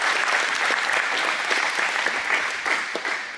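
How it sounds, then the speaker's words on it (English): An audience claps and cheers loudly and continuously, a dense, sustained wash of applause close by with no voices standing out. "Give him a big round of applause."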